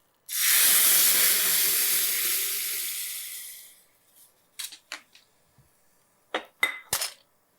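A loud burst of sizzling hiss as hot tempering oil and spices are poured onto rasam, fading over a few seconds, followed by a few light clinks of a utensil against a pot.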